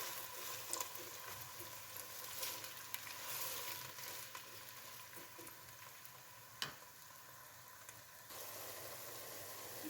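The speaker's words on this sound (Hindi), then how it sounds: "दो बड़े साइज़ के प्याज हैं, अच्छे से फ्राई करेंगे।" Two large onions frying in a pot for chicken haleem make a soft, steady sizzle that stays fairly quiet and distant, broken by a few light taps of stirring, with no talking.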